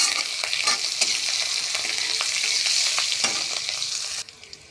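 Chopped ginger and torn green chili frying in a pan for a spicy rohu fish curry, with bright continuous sizzling and a few sharp stirring scrapes, the sizzle cutting off abruptly near the end.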